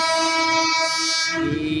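An electric commuter train bound for Cikarang sounds a loud, sustained horn close by as it rolls past, the tone holding steady before fading into rumbling noise.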